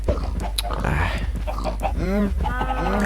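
Several short chicken clucks and squawks from Minecraft, moderately loud, mixed with other game noises and some voice-like sounds in the background.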